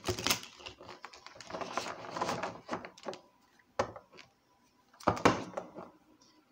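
Tarot cards being shuffled by hand in bursts of papery riffling and slapping, close and fairly clear, with short pauses between shuffles and no talking.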